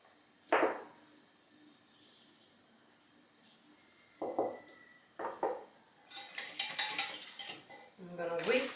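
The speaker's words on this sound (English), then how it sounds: "we're going to whisk it" A garam masala mixture is whisked in a bowl. A few short bursts of metal clinking against the bowl are separated by quiet gaps, then a quicker run of taps follows, close and fairly soft.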